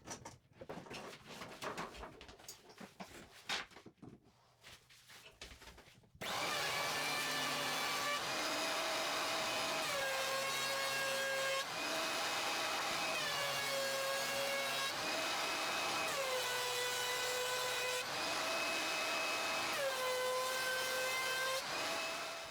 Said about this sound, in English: I got it planed down nice and flat on both sides